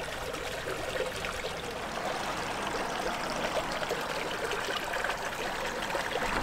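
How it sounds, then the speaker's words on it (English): Ancient spring of Thorncroft, beside the River Mole in Fetcham, Surrey, running out of a small culvert as a steady close trickle and splash of water, constant and unbroken, with no voices. "Comes out of a little culvert here and then down into the River Mole."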